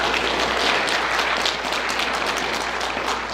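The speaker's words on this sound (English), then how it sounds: "If we could give a clap up for her real quick." Loud, close applause from a crowd at a high school football senior signing day, dense continuous clapping held at an even level throughout.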